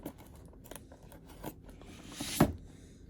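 Quiet snips and scraping of a blade cutting through the tape and cardboard of a Star Wars Black Series action figure box, with a few sharper cuts and a louder slice near the end.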